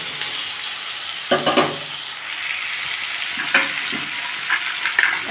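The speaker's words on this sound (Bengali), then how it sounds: "এটা আমি চাপা দিয়ে দিয়ে ভেজে দেবো" Cabbage and soya chunks sizzle steadily in a hot pan, with a few louder scraping stirs breaking through the constant frying hiss.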